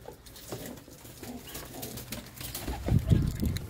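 Caged pigeons in wire-mesh coops give low, rumbling coos that grow louder and denser toward the end, with some rustling and background noise throughout.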